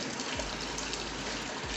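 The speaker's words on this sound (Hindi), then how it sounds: "अब हो गया, तो पानी भर जाएगा।" Water pours steadily into a washing machine drum loaded with detergent and clothes, a constant faint rushing hiss with no break.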